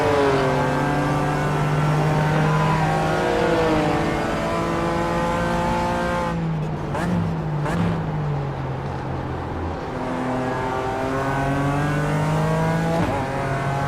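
BMW M race car driven in the iRacing simulator, engine note steady and loud throughout with rising and falling revs through gear changes, a brief dip and lift around mid-clip, no voices.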